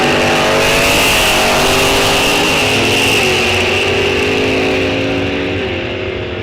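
Drag racing cars, including a Corvette, launch at Rock Falls Raceway during an NHRA National Open, their engines blaring at full throttle in a loud, sustained roar that climbs in pitch and then slowly fades.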